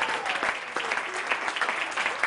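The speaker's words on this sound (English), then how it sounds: "Could you please put your hands together for Mr." An audience claps in a dense, continuous burst of applause at a live music show, fairly distant and uniform throughout.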